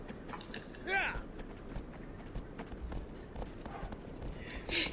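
Horse hooves clip-clopping in Shadow of the Colossus, a steady run of soft hoofbeats mixed with mechanical game sounds and a brief rising animal call, heard at moderate level without talk.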